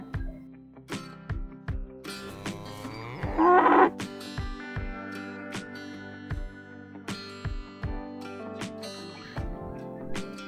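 A cow on a farm moos with tonal, sustained lowing, most strongly around the middle, over recurring sharp knocks and a steady background hum; no talking.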